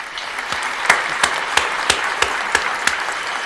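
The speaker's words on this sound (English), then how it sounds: "we're gonna give you a round of applause" Slow, rhythmic clapping for Sam Donald on a sports talk podcast, sharp, evenly spaced claps roughly every third of a second over a light background wash, close and distinct.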